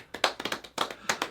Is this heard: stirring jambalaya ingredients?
no